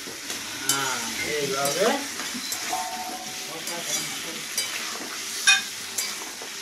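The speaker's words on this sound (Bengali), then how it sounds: "আমি এইভাবে এখন জল দিয়ে দিয়ে ভাজছি," A spice paste fries in a pan with splashes of water added so it won't burn. A steady, close sizzle and hiss run throughout with stirring scrapes, while a voice talks over it.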